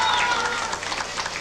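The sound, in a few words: applause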